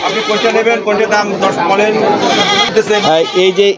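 Goats at the Rupdia goat market in Jessore, Bangladesh, give loud, close, wavering bleats one after another, with market voices mixed in around them.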